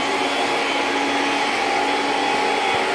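A vacuum cleaner runs steadily on the floors of a messy den in a house under repair, a loud continuous whine and roar that holds alone, close and unbroken throughout.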